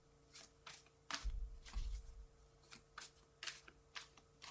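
Tarot cards riffle and slap together in a short, close shuffle, with several soft papery bursts and a dull thump as cards are drawn and set down in a quiet room.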